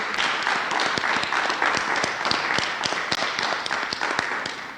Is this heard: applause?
yes